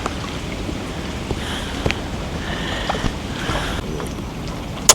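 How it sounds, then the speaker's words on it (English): Rain falls on a fishing boat out on the water, a steady broadband patter and hiss with occasional louder taps and a few sharp knocks, mixed with wind noise on the microphone and no talk. "we are getting rained on right now"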